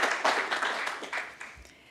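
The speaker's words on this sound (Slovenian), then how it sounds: "Lahko pa ji zaploskamo" Audience applause at a Slovenian award ceremony, given for a winner who is not present: a short, moderately loud patter of clapping that thins out and fades within two seconds.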